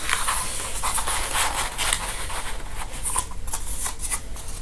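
Strips of tape pulled and rolled by hand onto a Nutcracker figure give a steady, close run of papery rubbing and scratching with soft crackles, and no voices are heard.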